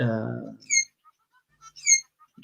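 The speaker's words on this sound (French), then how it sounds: "Confirmation, c'est mes oiseaux." Pet birds giving two short, faint high chirps indoors, spaced apart, following a brief bit of speech at the start.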